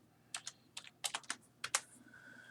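Quick, light keystrokes on a computer keyboard, about a dozen crisp clicks in short uneven bursts, close and fairly quiet, with no talking.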